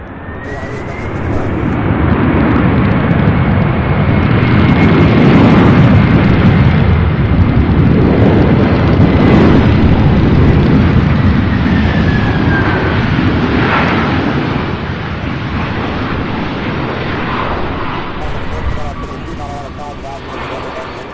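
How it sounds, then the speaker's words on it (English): UPS cargo jet, flight 2921 from San Diego, at Louisville's UPS Worldport, a loud continuous jet engine roar swelling and holding, with occasional talk and radio chatter underneath. "This is UPS 2921 out of San Diego, California."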